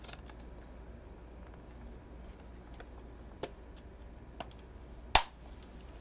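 A few faint ticks against quiet room noise, then one sharp, louder plastic click near the end as an Oculus Quest 2 head strap snaps into place.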